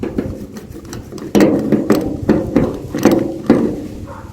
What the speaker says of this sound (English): what I'm going to do is I'm going to come in here and burnish it with my box cutter backside